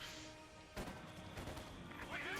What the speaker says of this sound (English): Mortars flying from there